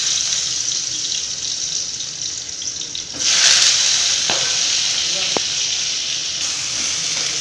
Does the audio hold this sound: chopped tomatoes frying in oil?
yes